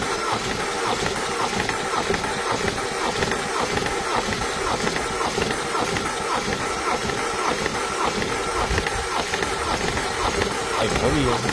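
A Peugeot 207 HDI 16V diesel with 545,000 km fires up and settles into a steady, loud diesel clatter close by. Some faint background voices come and go.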